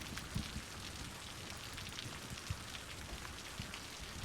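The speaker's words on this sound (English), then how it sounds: "Come on, rain, go away." Steady rain patters in the Cities: Skylines city-building game, a dense even hiss of falling drops with a few sharper taps, continuous and fairly faint throughout.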